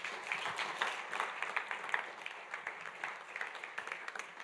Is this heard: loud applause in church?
yes